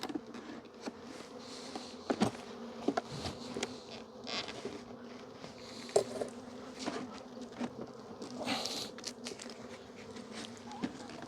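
Honeybees buzz around an outdoor hive during an early spring inspection, a soft continuous drone with individual bees zipping close by, faint scattered knocks and a distant bird now and then.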